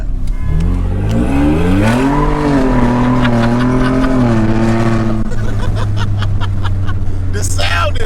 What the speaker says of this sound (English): I ain't never heard an EcoBoost sound like that